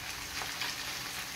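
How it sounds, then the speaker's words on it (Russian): Onion and carrot frying in a pan, a brief, steady sizzle with soft crackling, moderately loud and close, with no voices. "Наш лук с морковкой уже поджариваются"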